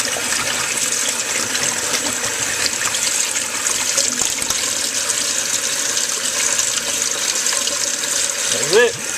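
Water pours steadily from a tap, a loud continuous rush that runs throughout with a brief gurgle near the end.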